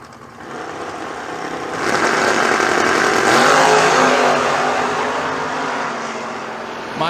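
Drag racing cars revving hard during a burnout contest at a bracket-racing event at Kil-Kare Raceway, a loud engine roar that builds and holds, then eases slightly, heard from a distance.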